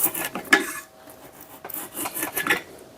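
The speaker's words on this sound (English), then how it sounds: "Hit it with the draw knife" A draw knife shaves a wooden axe handle in short, rasping strokes, a few close scraping passes with brief pauses between them.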